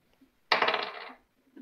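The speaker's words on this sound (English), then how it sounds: "No, that's a good dice roll" Dice tumble briefly across a table during a tabletop Dungeons & Dragons session, a single short rattling burst of about half a second, close and clear with quiet around it.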